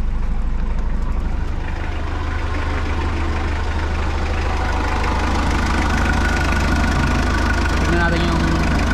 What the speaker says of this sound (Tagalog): Check natin yung engine.